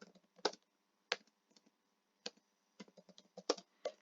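Keys clack on a computer keyboard close by. The taps are sharp and come in irregular clusters with short pauses between them, fairly quiet, and no one speaks.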